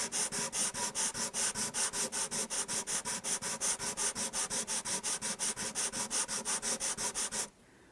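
Sandpaper wrapped on a flat block is rubbed back and forth over a polyester guitar finish around a repaired area, in about thirty quick, even, close strokes that stop abruptly near the end.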